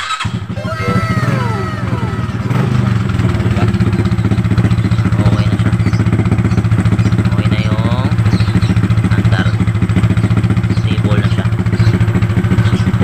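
A Honda Wave motorcycle engine, fitted with a replaced CDI, runs at a steady, rapid idle. Close, continuous pulsing clatter follows a brief start, with voices talking over it.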